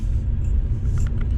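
An Oldsmobile Cutlass Supreme with a freshly rebuilt Rochester carburetor runs at a very high idle, a steady, loud low rumble heard up close from inside the car, with no one talking.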